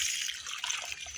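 Water poured into a rice paddy field as a continuous, steady rushing splash, close and fairly loud, without talk.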